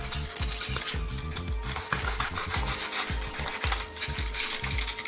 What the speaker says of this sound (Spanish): Miren, un corte así en triángulo, pero entonces lo vamos a ir desbastando